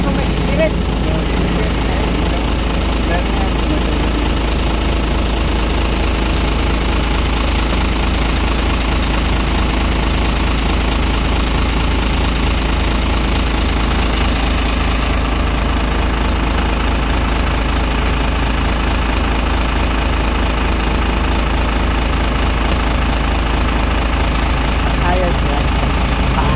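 A motorcycle engine runs with the motor on, a loud, steady, close idling drone with a rapid knocking pulse, continuous for the whole stretch; someone talks over it.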